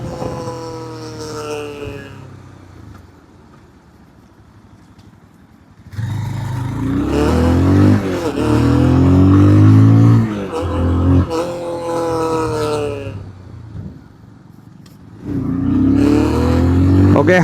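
A 200cc city sports motorcycle engine revs hard past 7000 RPM, its plastic body panels adding a heavy tone; loud rising engine bursts separated by a quieter idle stretch.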